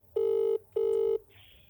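A telephone call sounds two long, identical electronic tones, each under half a second with a short gap between, loud and clean, followed by a faint hiss.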